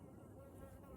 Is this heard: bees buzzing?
yes